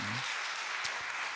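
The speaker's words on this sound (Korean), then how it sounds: "그러면 요 세 분, 네 분 사모님 위해서 박수 한번 칩시다." Applause at a Korean evening church service rises for the pastors' wives, a faint, steady wash of clapping lasting about a second and a half.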